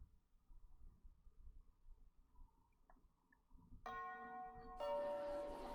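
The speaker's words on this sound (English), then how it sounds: "the bell signifying the end of class rang" A school bell rings at the end of class in the horror visual novel game Higanbana no Saku Yoru ni, entering loud and sustained near the end after quiet ambience, with a second brighter chime layering on top; no one speaks.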